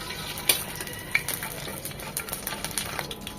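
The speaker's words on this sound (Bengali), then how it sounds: "তেলটা গরম হয়ে এলে এখানে দিয়ে দিব একটা বড় তেজপাতা" A large bay leaf sizzles and crackles in hot soybean oil, a soft steady frying hiss with a few sharp pops, close and fairly quiet with no talking.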